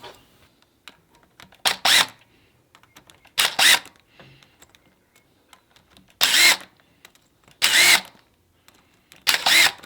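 A power driver runs in short bursts, six separate whirring pulses with pauses between, snugging down the bolts of a see-through clutch cover on a CBR/VFR hybrid sportbike in a cross pattern.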